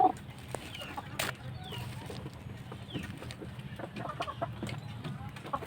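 Backyard heritage chickens cluck softly around their nest during egg collection, a low continuous murmur of fowl sounds with occasional sharper calls, moderately close, no talking.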